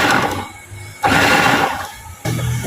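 A food processor pulses chunks of yam for pounded yam: loud whirring bursts start and stop in short pulses, separated by brief quieter gaps, close by.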